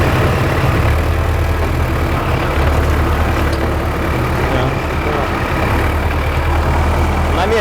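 Tractor engine running steadily while driving slowly, a continuous low heavy rumble throughout with faint talk in the background.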